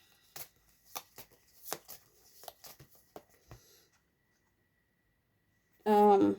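Soft papery riffling and tapping of tarot cards being shuffled in irregular bursts, close and quiet, then a voice begins speaking briefly.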